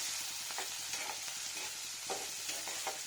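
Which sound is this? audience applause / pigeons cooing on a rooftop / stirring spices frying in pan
stirring spices frying in pan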